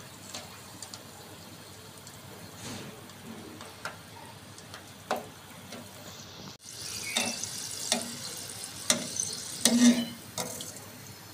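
Soft, steady sizzling of whole garlic cloves frying in oil, with faint crackles and a few small clinks and stirring sounds, no talking.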